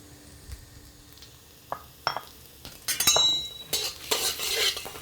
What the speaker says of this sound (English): this is our minced ginger goes in, our minced garlic.